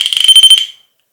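A handheld electronic detector box inside an abandoned house emits a rapid series of loud, high-pitched beeps that pulse quickly for under a second and then stop abruptly, leaving silence.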